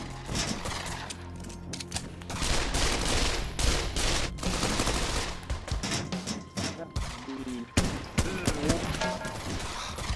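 Rapid, loud gunfire from a VR gun game, with continuous bursts and overlapping shots running throughout and a few heavier thuds, while players talk and laugh over it.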